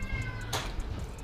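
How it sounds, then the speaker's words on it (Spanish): Young, fairly large kittens meow softly a couple of times, with a brief rustling burst between the calls, close by. "Ay, están bien grandes los gatitos."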